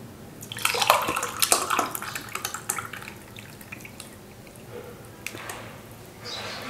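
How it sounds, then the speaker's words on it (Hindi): Cooled milk prepared for a wedding milk-drinking ritual being poured into a glass, a close splashing, trickling pour that starts strong and tapers into drips, with no talk. "अब इसको जब ठंडा हो गया तो इसको हमने गिलास में डालना है।"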